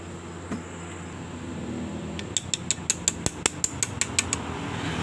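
About ten sharp ratchet-wrench clicks in a quick, even run as a bolt is tightened while assembling a Yamaha Mio scooter engine, close and clear over a quiet workshop background.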